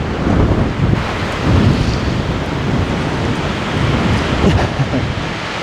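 Strong wind roars across a disc golf course in New Zealand, buffeting the microphone with a constant, loud rumbling rush and gusty bursts throughout.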